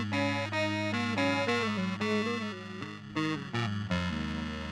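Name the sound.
distortion and chorus effects pedal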